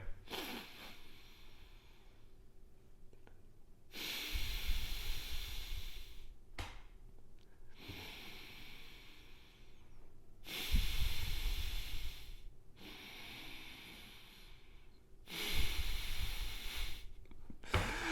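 Deep breaths go straight into a microphone, with three long, loud, close breathy rushes separated by quieter pauses.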